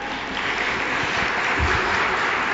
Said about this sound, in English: I should bring that applause to Norway